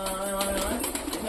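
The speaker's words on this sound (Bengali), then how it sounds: "আমাদের এইখানেই সব কটা পায়রা রয়েছে" Pet pigeons cooing softly in a colony loft, a brief low murmur of coos over a steady background hum, faint and close.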